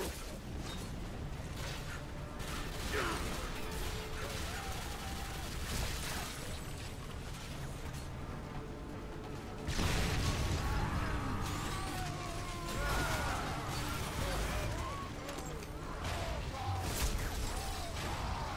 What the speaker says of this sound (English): The rotors are dislodging.